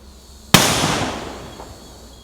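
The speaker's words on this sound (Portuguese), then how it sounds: "Então esse é um cachorro que não tem medo de estampido." A single loud firecracker bang goes off nearby, a sharp crack followed by a fading echoing tail, with a dog present but silent.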